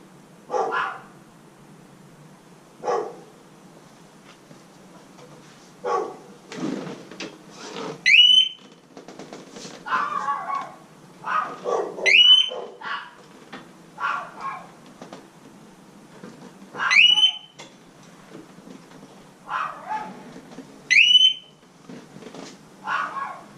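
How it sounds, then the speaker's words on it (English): Several dogs bark in bursts at a distance, with a sharp high-pitched electronic beep repeating every few seconds from a motorcycle alarm siren on a 2015 Harley Road Glide Special. "It's making all the dogs mad."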